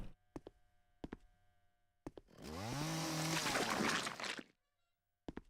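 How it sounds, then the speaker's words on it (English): Chainsaw revving in a video game, a loud sustained roar with rising harmonic sweeps lasting about two seconds between short clicks and bumps, with no speech. "Why is that chainsaw?"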